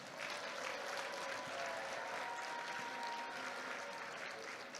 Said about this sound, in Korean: 여러분, 우리 목사님께 박수 한번 해주십시오.